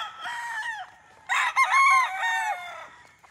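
Chickens and a rooster at a game farm: close, loud crowing calls in two bursts, the second longer and stronger, with faint clucking around them.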